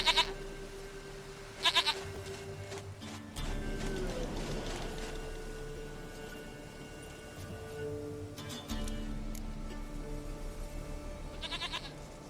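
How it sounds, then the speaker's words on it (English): Goat bleating in The Witcher 3, a few short bleats standing out over a steady game soundtrack and ambient hum, with no talking. "Goat of mine, dearest, sweetest goat."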